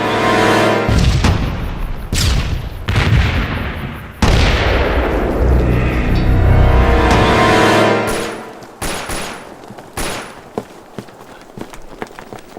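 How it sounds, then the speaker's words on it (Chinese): Grenade explosions and loud bursts of gunfire crowd together from a Japanese army camp, then give way to scattered, sharper shots spaced apart as the din thins out. "好像是手榴弹爆炸，枪声也是那边传来的"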